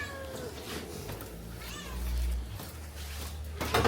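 A cat in a garage meows repeatedly, with a few drawn-out cries over a low background hum.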